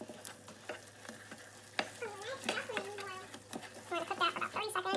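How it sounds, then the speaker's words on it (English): Flour stirred vigorously into boiling water and butter in a pot, giving short scraping and thudding strokes close by, with a faint bubbling hiss and a voice talking over the stirring. "we are going to add all the flour all at once. So we're gonna stir that really well"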